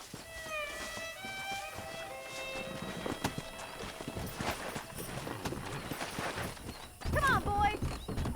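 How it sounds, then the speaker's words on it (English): Horses in the Red Dead Redemption 2 video game clop along with steady hoofbeats, set against tonal game music and ambience, with a brief louder whinny-like burst near the end. "Let's see if we can't wrangle some horses"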